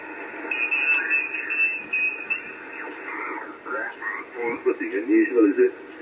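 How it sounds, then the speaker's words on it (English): An IC7410 amateur radio transceiver plays received radio voices and static in the background, steady and fairly faint and slightly distorted, at a ham radio station. "Let me switch off the radio because you can hear it in the background."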